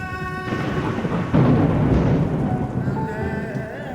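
Thunder rumbles over steady rain in a storm, a deep roll that swells midway and then eases, heard along with tonal background music and some bleat-like sounds.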